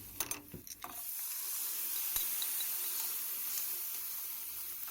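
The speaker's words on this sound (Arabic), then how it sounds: "واول ما يتحمر شويه كده يبقى لونه ذهبي هنحط عليه الطماطم" Tomatoes dropped into a pan of golden fried onions: a few clattering knocks of pieces landing, then a loud, steady hiss of sizzling oil continuing alone.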